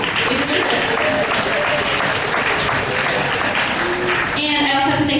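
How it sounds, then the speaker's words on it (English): An audience applauds in a continuous, loud round of dense clapping that fills the room, with voices mixed in and a speaker talking over it toward the end. "give them a round of applause"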